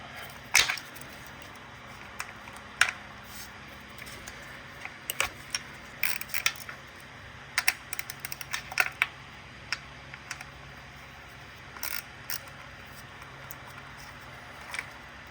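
A socket wrench loosens the size 10 bolt on the number 4 ignition coil of a 2008 Toyota Sienna, giving scattered faint ratcheting clicks and small metallic taps close by, with no voices.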